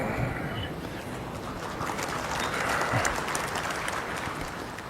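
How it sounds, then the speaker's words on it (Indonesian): A crowd at a political speech applauds steadily and densely, as a continuous wash of clapping with no pauses. "Jangan terlalu sering tepuk tangan."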